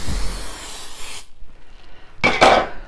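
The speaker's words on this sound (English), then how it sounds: "Make sure you get every crack and crevice. All right, this Perfect Release Pam, it actually works pretty good" Pam Perfect Release cooking spray hisses into a cake pan in a long close burst, goes quiet for a moment, then gives a second shorter spray.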